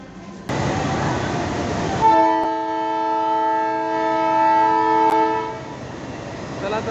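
Passenger train 57512 from Parbhani to Nanded pulling away: a low rumbling background joined by a loud, sustained multi-tone horn for several seconds, which then fades back into the running rumble.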